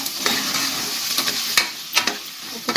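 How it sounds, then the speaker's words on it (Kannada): Chili, coriander powder and turmeric fry in a pan with a steady close sizzle, broken by a few scraping stirs of a spoon; no one speaks. "1 ಸ್ಪೂನ್ ಧನಿಯಾ ಪೌಡ್ರು, ಸ್ವಲ್ಪ ಅಡುಗೆ ಅರಿಶಿನ ಚೆನ್ನಾಗಿ ಫ್ರೈ ಮಾಡಬೇಕು"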